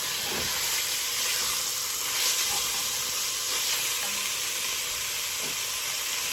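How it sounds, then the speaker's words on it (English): Ground meat browns in a pot over medium heat, giving a steady broadband sizzle and hiss that stays even throughout, with a few faint stirring clinks and no voices. "We just want everything mixed in our ground meat, nice and brown."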